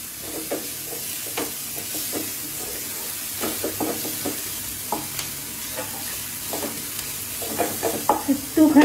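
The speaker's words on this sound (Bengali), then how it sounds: "রসুন কুচি, গ্রেট করা আদা, আর লঙ্কা কুচি একসাথে দিয়ে একটু ভেজে নেব" Chopped garlic, grated ginger and chopped chili fry in oil while being stirred for a chicken singara filling. A close, steady sizzle runs throughout, broken by repeated spatula scrapes and knocks against the pan that grow louder toward the end.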